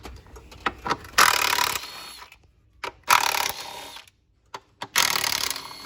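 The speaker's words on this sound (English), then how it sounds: "It's okay to undo it with the impact" An impact wrench removing 10 mm intake manifold bolts on a 2009 Dodge Charger 2.7 during a water pump job, with three loud, close bursts of rattling hammering separated by short pauses and quiet handling noises.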